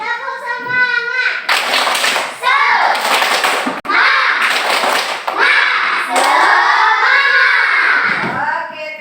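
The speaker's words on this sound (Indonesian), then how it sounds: "Tepuk semangat." Schoolchildren in a classroom leading a tepuk semangat clapping chant, rhythmic bursts of clapping between shouted chanting voices, loud and close.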